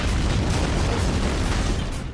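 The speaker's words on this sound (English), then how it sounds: "Big explosions seem to be a general theme in the Ballad of Gay Tony." A big explosion from Grand Theft Auto: Episodes from Liberty City, The Ballad of Gay Tony, roars as a dense, sustained low rumble that fills the whole clip at steady loudness, with no speech.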